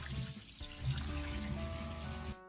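Water from a riverside source poured for cooking shrimp and mussel fritters, a steady splashing stream into a pot that cuts off abruptly near the end.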